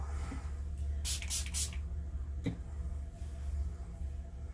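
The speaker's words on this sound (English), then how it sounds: "Just spray it a little bit more to blend this out" Three quick hissing bursts from a spray bottle in close succession, followed by a softer single spritz, near and clear over faint background hum.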